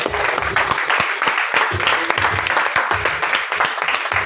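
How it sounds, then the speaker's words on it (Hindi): At a teacher award ceremony, an audience keeps up sustained, crackling applause close to the microphone, with a voice faintly heard over the clapping. "तालियां रुकनी नहीं चाहिए,"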